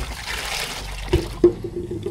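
Water runs into a sink while forest snails are prepared for cooking, a steady close trickle and splash with a couple of soft knocks partway through.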